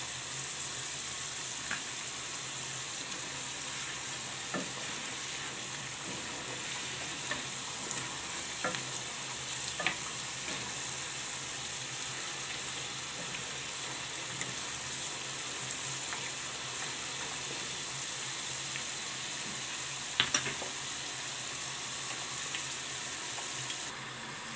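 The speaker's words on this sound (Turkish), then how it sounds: "Patatesim de kızarıyor." Potatoes sizzle and crackle steadily in hot oil in a home kitchen, a continuous close frying hiss with occasional sharper pops and no talking.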